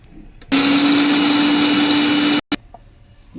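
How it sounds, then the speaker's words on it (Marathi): A mixer grinder grinding cumin seeds roars on loudly and steadily for about two seconds, with a high electric whine, then stops abruptly and gives one brief restart. "हे मिक्सर पॉटमध्ये घातलेलं आहे याला आता बारीक करून घ्यायचं"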